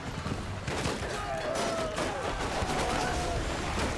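Troops in Mount & Blade II: Bannerlord fire a ragged volley, a dense stream of overlapping musket-like cracks over constant battle din and distant shouting.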